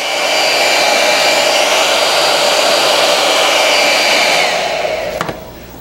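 A hair dryer blows air steadily over a small paper airplane wing held on bamboo skewers, a loud continuous whoosh that holds even and then cuts off abruptly near the end, with no talking.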